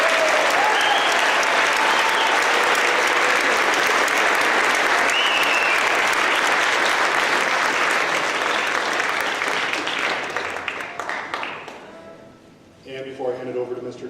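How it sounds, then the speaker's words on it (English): A school awards ceremony audience gives the freshman class a long, loud round of applause lasting about ten seconds before tapering off, with talk picking up at the end. "Round of applause."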